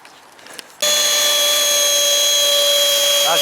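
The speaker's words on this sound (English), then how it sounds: "got a little bit more polishing still to do on this panel" A machine polisher works a BMW body panel, starting with a sudden loud, steady high-pitched whir that holds evenly until the end.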